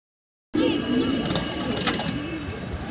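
A pigeon coos in low, rolling notes close by, with outdoor background noise after a brief silent start.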